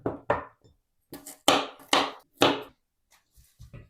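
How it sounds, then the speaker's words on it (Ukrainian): Several sharp knife strikes on a cutting board in uneven bursts as onions are finely chopped, close by, with brief pauses between groups of chops. "Також дрібненько нарізаю 3 цибулини."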